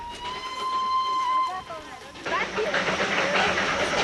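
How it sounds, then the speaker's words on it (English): A small steam locomotive on the Darjeeling Himalayan line sounds a long steady whistle, then bursts into loud hissing steam over rumbling rail noise, close by. "18 little locomotives run back and forth on the Darjeeling Himalayan line"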